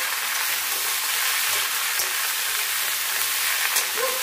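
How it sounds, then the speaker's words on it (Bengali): Mixed vegetables, including pumpkin, fry in hot oil in a pan, a steady bright sizzle with faint crackles throughout and no talk. "বাদ বাকি সবজিগুলো দিয়ে ভাজাভাজি করে নেব"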